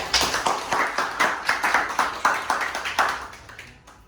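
An audience claps loudly for a best actor award after a stage play, a dense run of hand claps that builds briefly and then fades toward the end.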